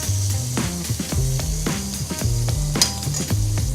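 A rack of lamb sears in a hot pan, giving a steady close sizzle with intermittent clinks and scrapes of utensils against the pan. No one speaks.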